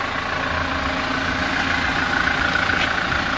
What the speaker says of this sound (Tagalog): Ganda pa ng tunog ng makina. Diesel na diesel.